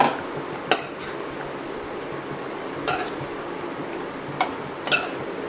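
Pasta being tossed with fried vegetables in a pan for a creamy prawn pasta gives a soft background sizzle with four or five sharp scrapes and clacks of a spoon against the pan, spaced a second or two apart.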